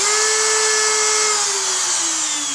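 An X-Carve CNC router spindle spins up to high speed, giving a steady, loud, high-pitched whine that drops slightly in pitch toward the end, with nothing else audible.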